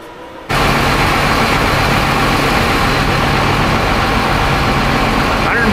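A Cummins VE diesel truck engine cranks and catches after a brief quiet moment, then settles into a loud, steady, broadband idle that runs close and continuous to the end.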